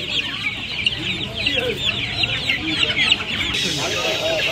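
Desi rooster at a busy Uluberia poultry market, clucking and calling repeatedly among other fowl under a constant crowd hubbub, with some faint voices.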